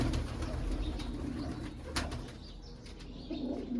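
Pedigree pigeons of mixed breeds coo in a low, continuous murmur with soft wing flaps, close and steady throughout.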